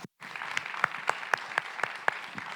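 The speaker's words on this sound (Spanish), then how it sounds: "Démosle un aplauso al Señor por su palabra" A church congregation applauds during a Spanish-language sermon, a soft bed of clapping with sharper, evenly spaced claps standing out near the mic, fairly quiet overall.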